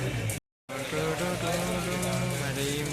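Steady rain falls throughout, a dense hiss broken by a brief silent gap, with background music and faint voices underneath.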